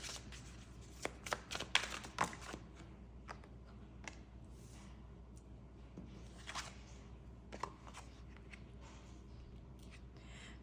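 Tarot cards being laid out one by one on a table, soft quiet slaps and slides of card stock, a cluster of shuffling flicks early on followed by sparse single placements, close and faint with no talking.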